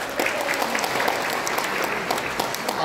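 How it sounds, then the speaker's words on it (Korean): Audience applause at a gathering of elders held in a Sogong Lotte Hotel function room, steady dense clapping filling the room at close range with no talk over it. "다시 한번 박수 하겠습니다"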